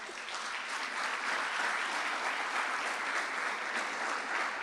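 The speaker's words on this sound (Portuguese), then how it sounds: "Mais uma vez aplauda ao Senhor, queridos." Congregation applauding in a church service, a dense steady wash of many hands clapping at even loudness from start to finish, with no voices standing out.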